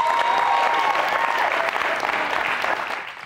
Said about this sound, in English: Normally, people don't clap for that.